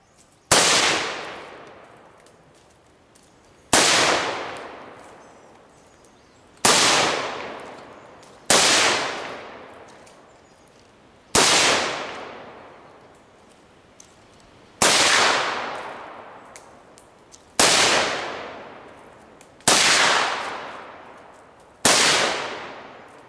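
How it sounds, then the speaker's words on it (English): Gunfire at shooting practice: eight or nine loud, sharp single shots, spaced roughly two to three seconds apart, each followed by a long, decaying outdoor echo. "now you've made decision to shoot, so you're ready to fire."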